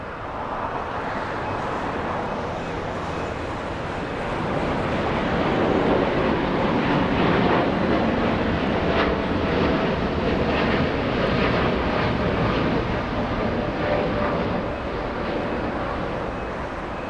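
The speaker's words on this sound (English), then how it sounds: "2614 flying to Newark, a 787-10 on the parallel runway. You'll see it in just a few seconds." A United Boeing 787-10 airliner rolls on a parallel runway at Los Angeles International Airport, a loud, steady jet engine roar that swells slightly and holds for the whole span with no talk over it.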